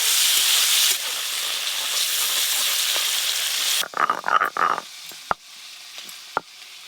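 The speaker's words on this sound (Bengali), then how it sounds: "এই তেলেই চিংড়ি মাছগুলো ভেজে নেব।" Prawns crackle and hiss in hot oil, a loud steady sizzle that then drops away into quieter spitting with a few sharp pops and clinks near the pan.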